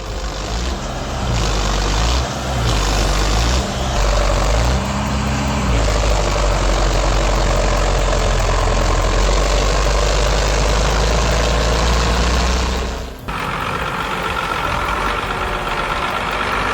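A Belarus tractor's heavy diesel engine roars steadily under load while stuck in mud, loud and continuous with rumbling low tones, briefly dipping near the end before resuming.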